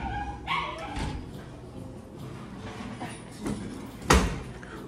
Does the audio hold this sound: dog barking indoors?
yes